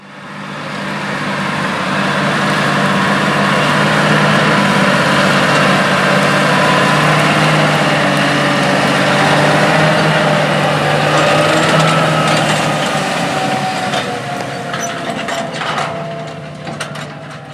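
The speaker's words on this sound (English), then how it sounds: "Now let's get back to their 8345R applying anhydrous ammonia." A John Deere 8345R tractor applying anhydrous ammonia in a spring field gives a steady, loud engine drone with mechanical rattling that holds throughout, easing slightly near the end.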